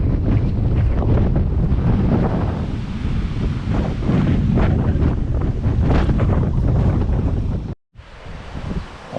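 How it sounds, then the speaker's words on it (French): Strong morning wind roars across the Cyprus coast, buffeting the microphone continuously while large waves crash and surge close by, with a brief cut in the sound near the end. "très venteux ce matin, il y a des grosses vagues."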